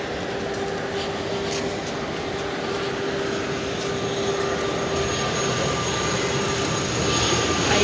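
An airplane roars overhead as a broad, steady rumble and whine that slowly swells louder, dominating the scene with no voices over it.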